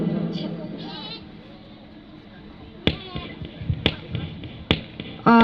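A couple of sheep bleats sound early on, followed by sharp tapping and knocking noises, with a voice speaking at times.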